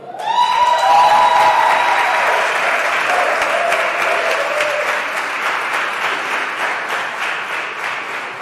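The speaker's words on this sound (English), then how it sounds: "We applaud her in her absence." An audience at a school long service awards ceremony claps steadily and loudly for a staff member, the dense applause swelling at the start and tapering slightly over about eight seconds without talk.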